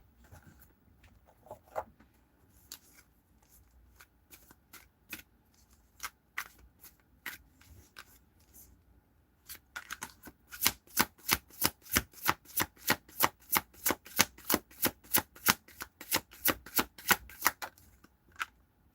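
Tarot cards being shuffled, first in scattered soft riffles, then a fast, steady run of crisp snaps close by; quiet otherwise.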